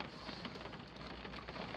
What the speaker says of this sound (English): It's raining, so I might have to do it online.